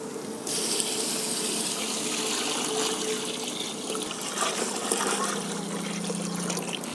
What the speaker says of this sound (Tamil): இப்போ இதில் தண்ணி ஊற்றிடலாம்.